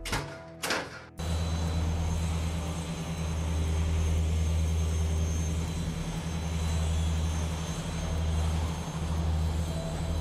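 Engine of an aerostat airship in the game Technobabylon drones steadily as a low, pulsing hum with a faint whine above it, following a couple of brief noisy bursts at the start, with no voices.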